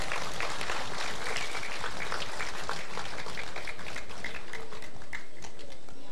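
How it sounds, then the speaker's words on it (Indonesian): Audience clapping during an Islamic religious lecture and Maulid recitation, a dense burst of applause from many hands lasting several seconds, close and fairly even, with no speech over it. "tepuk tangan dong."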